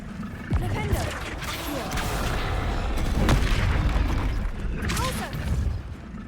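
Flipendo spell cast in Hogwarts Legacy, a booming magical impact with whooshing bursts amid continuous game action and rumble, with a voice speaking over it.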